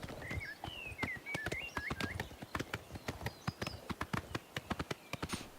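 Horse hooves clip-clopping in the video game Oblivion Remastered, a steady run of close, crisp hoofbeats with bird chirps and calls scattered over the top.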